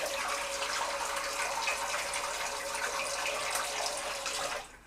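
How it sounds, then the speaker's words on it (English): Tap water runs steadily to rinse a razor blade from a Futur DE razor, a continuous close hiss and splash that cuts off abruptly at the end. "Take the blade out, rinse it out with water."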